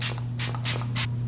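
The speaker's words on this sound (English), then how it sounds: "I'm going to spray my face." Anastasia Beverly Hills setting spray is misted onto a face in four quick hissing bursts, soft and close, separated by short pauses against a low steady hum.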